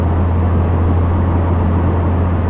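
Cabin noise inside a 2022 Subaru WRX cruising at about 70 mph on a mountain pass, fitted with 18x9 wheels and 245/40 R18 tires. A loud, steady road and engine drone with a strong low hum continues without a break.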